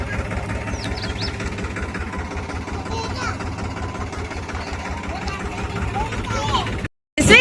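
A tractor engine idling on a Gujarati village farm, a steady low rumble throughout with children and adults talking over it, cutting out briefly near the end.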